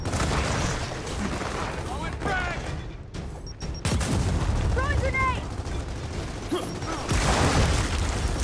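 Gunfire and booming impacts in Gears of War 4 over a dense, noisy battle mix, with voices talking over the action and a brief lull midway.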